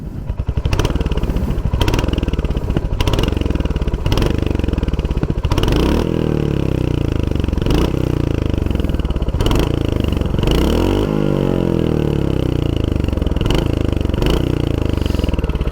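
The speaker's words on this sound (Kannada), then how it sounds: "ನಿಮಗಿಲ್ಲಿ ಎಕ್ಸಾಸ್ಟ್ ನೋಟ್ಸ್ ಕೇಳಿಸೋಣ. ಎಕ್ಸಾಸ್ಟ್ ನೋಟ್ ಹೇಗಿರುತ್ತೆ ಅಂತ." A Royal Enfield Hunter 350 exhaust thumps loudly and close, its engine revved again and again in sharp bursts that rise and fall over a steady idle.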